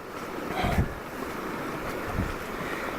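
Floodwater flows over the top of a bridge in a steady, broad rushing wash, loud and continuous with gusty wind noise on the microphone.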